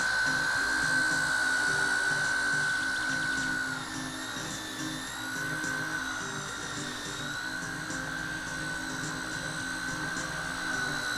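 A WL Toys V922 micro flybarless RC helicopter in flight makes a continuous high-pitched electric motor whine with a steady rotor buzz, fairly quiet and consistent, with a slight dip in pitch partway through.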